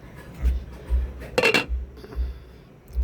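A metal lid set onto a cooking pot while boiling fish stew (tinola) at home: one bright clanking clatter in the middle, with soft clinks and low background rumble around it, no talking.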